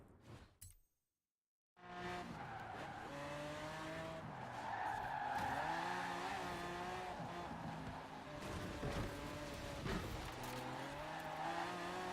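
In the Forza racing video game, a car brakes hard and skids, with a long sustained tire squeal and engine drone after a brief silence, loud and close, no speech.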